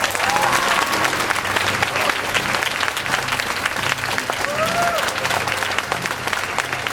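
A crowd applauds continuously at the close of a 2006 university debate final, a dense, loud, sustained clapping that stays even throughout, with faint crowd noise mixed in.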